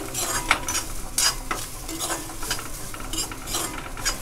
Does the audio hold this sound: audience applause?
no